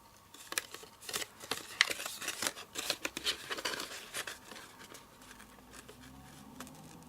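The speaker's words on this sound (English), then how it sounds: "just help it along the way with your paper snips" Paper snips cut through a cardstock label in a paper-crafting session: a run of quick, close, crisp snipping clicks in an uneven rhythm, which thin out and fade toward the end, with no talking.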